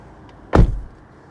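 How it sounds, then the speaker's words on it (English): Driver's door of a 2026 Subaru Outback Limited XT shut at night: a single solid thump with a short low rumble after, standing alone and loud against a quiet background. "So let's go ahead and shut the door."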